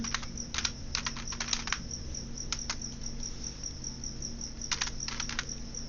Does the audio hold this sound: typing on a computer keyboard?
yes